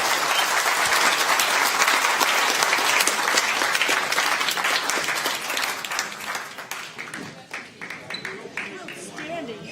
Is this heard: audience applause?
yes